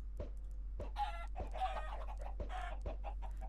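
A Minecraft chicken clucks in short repeated bursts over a low steady hum, with a few soft thumps spaced between the calls.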